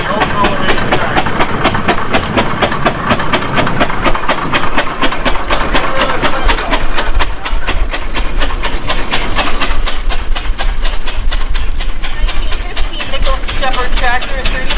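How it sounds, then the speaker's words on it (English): Antique elevating tractor, a 3570 oil-gas model, running at a steam threshers reunion in Rollag, Minnesota, giving a steady rapid chugging beat that stays loud and close throughout, with voices talking over it. "Young Holstead is driving this tractor, this elevating tractor."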